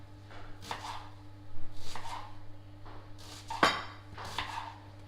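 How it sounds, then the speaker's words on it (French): An onion being cut with a knife for beef lasagne, a few spaced soft chops and slicing rubs on a board over a steady low background hum, one sharper knock near the end. "Donc l'oignon, je vais le découper"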